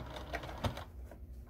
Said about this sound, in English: I'm gonna backstitch over the seams.